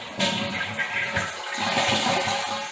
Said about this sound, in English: It's a good idea to shut the water supply off and then flush it a few times.